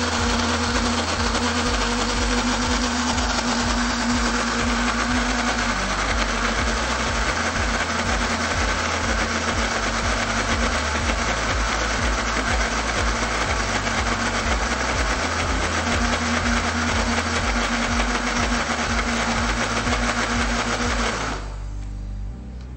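A food processor runs continuously while mixing tart dough, a steady high whirring motor with a rhythmic thumping churn underneath, close and alone for about twenty seconds before it abruptly switches off.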